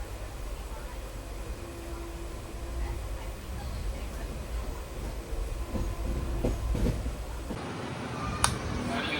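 A train runs on the line near Nagercoil Junction outer, its continuous low rumble and wheel clatter steady and close, with occasional knocks and someone speaking over it.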